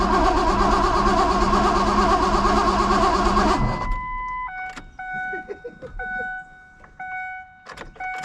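A 2001 Mazda B3000 truck that sat for 18 months cold-starts and runs rough, with a loud, dense engine roar that suddenly cuts off, leaving a quieter scene of repeating electronic chime tones and faint clicks.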